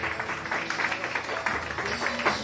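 Wedding guests applaud in a continuous burst of crowd clapping that stays fairly loud and even for the whole stretch, with a voice faintly mixed in.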